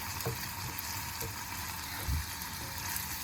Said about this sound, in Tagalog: Lutuin muna natin sa onion and garlic yung ating liver at saka heart ng chicken.